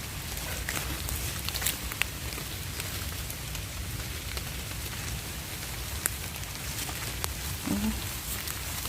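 Steady rain patters outdoors during mushroom foraging in Thailand, a continuous even hiss with occasional louder drops, fairly close and without voices.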